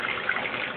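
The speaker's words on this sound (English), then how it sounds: "just run a regular glass of water" Tap water runs steadily into a glass, a smooth continuous gush at close range with no talking over it.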